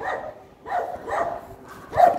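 A dog barks outdoors in a park-like setting, several loud, close barks in an uneven rhythm with short pauses between them.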